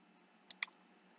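Two quick, faint computer mouse clicks, about a tenth of a second apart, while navigating a FamilySearch genealogy website on a computer, in an otherwise quiet setting.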